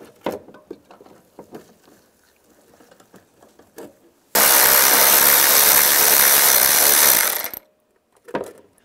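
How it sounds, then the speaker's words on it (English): A power tool, likely an impact driver or ratchet, runs a door hinge bolt on a 2007-2013 Chevrolet Silverado 1500 in one loud, sustained burst of about three seconds, with quieter handling clatter before and after. "we'll get that back bolt started first."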